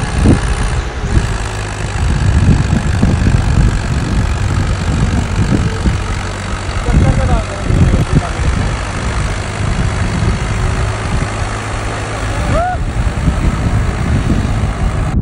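A Swaraj 2022 tractor engine idles with a steady, low diesel rumble that runs continuously and close by, with faint background noise and no talking.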